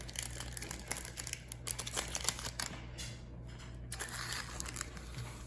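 Foil wrapper of a 2021 Topps Baseball card pack crinkling as it is torn open: quiet, close, continuous rustling and crackling with a steady low hum underneath and no talking.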